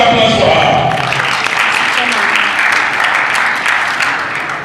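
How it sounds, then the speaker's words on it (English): Applause from attendees at a political roundtable on the 2023 elections, loud dense clapping that stays steady before gradually fading out near the end. "Please, a round of applause for her."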